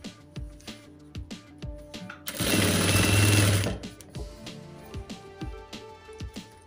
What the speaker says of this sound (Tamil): ஃபுல்லாக ஸ்டிச் பண்ணிட்டு அந்த எஜ்ஜு வரையில் காமிக்கிறேன்